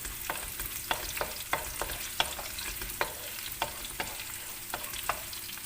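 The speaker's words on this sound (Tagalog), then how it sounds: "Prito-prito lang." Onions fry with garlic in a hot pan over a strong flame for Filipino chicken adobo, a steady sizzle broken by regular scraping stirs up close.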